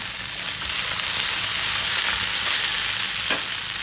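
Potatoes fry in a home frying pan, a steady dense sizzle and crackle running unbroken and fairly loud throughout, with one brief clatter near the end and no voices.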